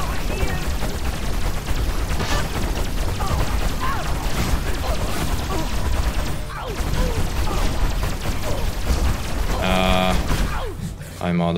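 Dense, continuous gunfire from the Destroy All Humans 2 video game, with rapid bursts and crashes running throughout over constant game noise while a voice talks beneath.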